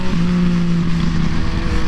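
A 2014 Yamaha FZ-09 motorcycle engine accelerating on a ride, a steady, close drone with a rising tone, heard alone without speech.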